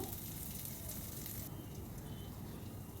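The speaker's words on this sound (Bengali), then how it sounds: "হিংটা দেওয়ার পরও আবারও একটু টস করে নেব" Green chilli and asafoetida sizzling in hot oil as they are tossed, a continuous dense frying hiss, close and steady, easing slightly halfway through with no talking.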